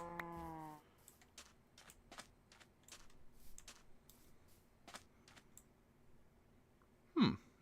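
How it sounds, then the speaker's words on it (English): In the video game Minecraft a cow gives a short low moo at the start. Fast, crisp computer keyboard clicks follow, and a brief sharp game sound comes near the end. "Quite a few cows here."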